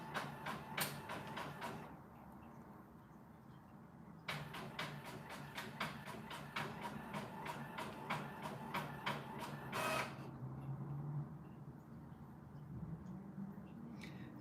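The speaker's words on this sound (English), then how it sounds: "Excuse the noise. John is printing something." An office printer prints nearby in a room, giving rapid bursts of mechanical clicking and ticking in repeated runs, separated by brief pauses, at moderate level with a soft background hum and no talking.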